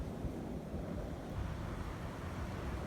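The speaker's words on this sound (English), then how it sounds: "The waves is crashing too much" Ocean surf crashes steadily around a fishing boat out for halibut, a dense continuous roar of waves mixed with wind buffeting the microphone, with no talk.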